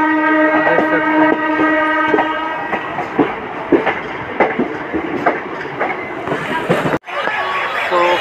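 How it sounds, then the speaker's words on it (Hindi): A passenger train rolls away from a station with a rhythmic clickety-clack of wheels over the rails. A sustained tonal horn sounds early on, and a brief break comes near the end. "तो गाइस अभी ट्रेन जो है खुल चुका है स्टेशन से"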